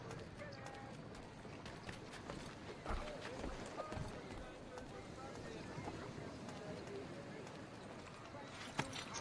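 Hoofbeats of a horse galloping in Assassin's Creed III, a fast, steady clatter running through dense game sound with a voice speaking over it.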